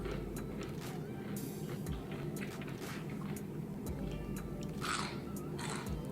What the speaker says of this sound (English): You heard that crunch?